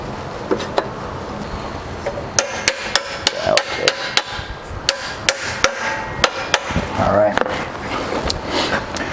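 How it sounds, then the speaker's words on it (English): Hammer blows drive spacers into a Chevy or GMC truck trailing arm bushing, a run of sharp metallic strikes, irregular at first and then faster and steadier, loud and close in a workshop with a voice talking between hits. "Now when I hammer this in"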